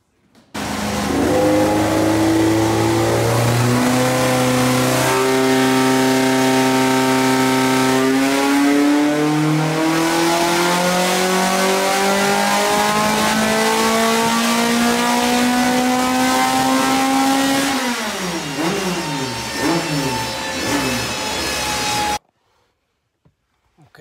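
Rapid Rattler naturally aspirated car engine on a dyno run on Q16 race fuel, roaring loud and close as it climbs steadily through the revs in a long sustained pull, then backs off and cuts to silence.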